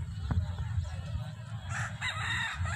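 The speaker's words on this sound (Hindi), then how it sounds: "और देखो मुर्गा कुकड़ू कु कर रहा है।" A rooster crows outdoors at a ground where people walk, its call rising over steady low background noise and faint clucking, moderately near and loud.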